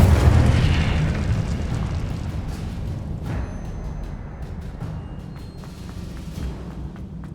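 Fiery Incendio spell cast in Hogwarts Legacy combat, a booming flame burst that rolls off into a long fading rumble, followed by a few sharp impact clicks and thuds.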